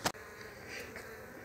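Honeybees at a beehive give off a faint, steady buzzing hum with a brief sharp noise at the start.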